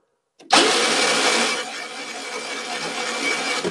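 GY6 scooter engine being cranked over: an abrupt start into a loud, steady mechanical whir and rattle that holds unbroken through the rest, close by with no talking.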